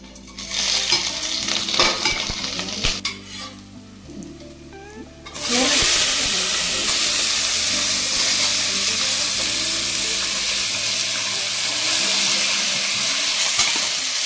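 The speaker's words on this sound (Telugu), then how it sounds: "ఇది నెయ్యి వేస్తున్నానండి. కొంచెం సామాన్లన్నీ వేస్తున్నాను." Whole spices for vegetable pulao hit hot ghee: a few clinks and stirring scrapes, then a loud, continuous close-up sizzle of frying.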